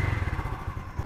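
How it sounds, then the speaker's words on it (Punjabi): A motorcycle engine runs just after starting, a close, steady low putter with a quick regular pulse that holds even throughout. "ਅਤੇ ਹੁਣ ਮੋਟਰਸਾਈਕਲ ਸਟਾਰਟ ਕਰ ਲਿਆ"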